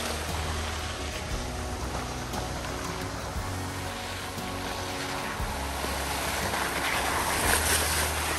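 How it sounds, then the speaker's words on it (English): An off-road overlanding vehicle ploughs through a cold Ozarks creek crossing, throwing up a steady, rushing wash of water and spray that builds slightly louder toward the end, with no voices. "hit that hard and splash"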